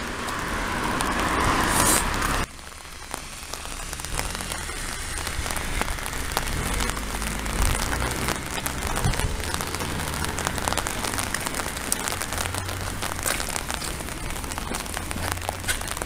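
Steady rain patters on the ground and surfaces along a residential street near the main road in Hikari, with a constant hiss under walking, loud at first then settling into an even wash.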